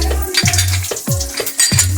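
Bay leaves and dried red chilies tempering in hot oil for egg tadka, a soft sizzle beneath several sharp metallic clinks and scrapes of a spoon against the pan, close and fairly loud.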